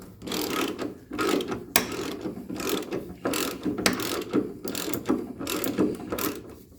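A ratchet snugs up the differential mount bolts underneath a 1985 Mercedes 300TD wagon, its pawl clicking in repeated rapid bursts of strokes with short pauses between, close and clear with no talking.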